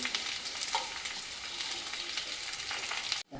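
Chopped onion frying in hot oil with garlic, cinnamon and cloves for chole: a constant close hiss and crackle with occasional stirring scrapes, no voices, cutting off abruptly at the end.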